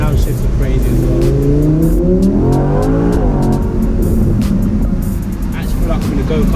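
A 2018 Audi R8 V10 Spyder engine revs hard and downshifts, its pitch sweeping up and down with sharp blips. It is loud and close, and someone talks over it.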